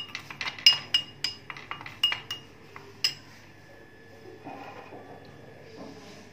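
Quick metallic clinks and scrapes of a utensil against a bowl, a burst of sharp taps that slows and fades into soft rustling.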